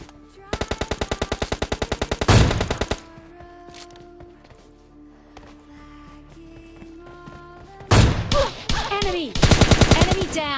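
Rapid bursts of automatic fire and sharp shots ring out in a battle royale video game during an AWM sniper rifle squad wipe, with two loud volleys separated by quieter clatter and movement sounds.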